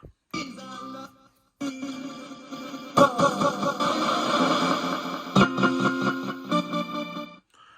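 Sweeping, choppy ghost box radio static with bursts of distorted tones and fragments, washed in heavy reverb effect; loud and continuous with abrupt cuts.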